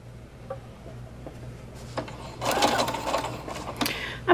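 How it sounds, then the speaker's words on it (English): A sewing machine sews a straight stitch across a Halloween quilt-as-you-go block, a few faint clicks first and then a close, busy mechanical whir of stitching in short bursts. "I'm just gonna use a straight stitch, and I'm just gonna kind of eyeball it, going from corner to corner"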